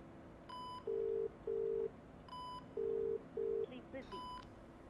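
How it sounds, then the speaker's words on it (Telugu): An outgoing phone call from a Telugu film scene, where a series of paired electronic ringback tones sounds, interleaved with brief higher key beeps, fairly quiet, with faint voices in the background. "ఒకసారి ఫోన్ ట్రై చేయి."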